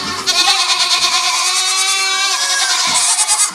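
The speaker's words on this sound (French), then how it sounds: "Voici le petit réveil des chèvres." Goats bleating on a farm at morning wake-up, several loud, close, wavering cries overlapping one after another with no pause.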